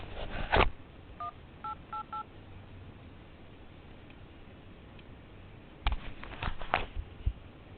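A telephone keypad dialing a court's number produces a short run of close, clear touch-tone beeps in quick succession, with handling clicks and bumps before and after.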